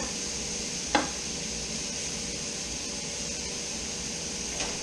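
Philly cheese steak pieces and portabella mushrooms sizzle steadily on a hot griddle, a constant dense hiss with one sharp scrape of a utensil near the start and another faint one at the end.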